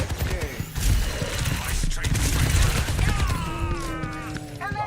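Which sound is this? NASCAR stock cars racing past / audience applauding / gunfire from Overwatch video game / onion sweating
gunfire from Overwatch video game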